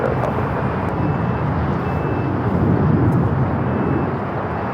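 A heavy jet taking off from the south side of LAX, a continuous broad roar that holds steady at moderate distance for several seconds with no voices.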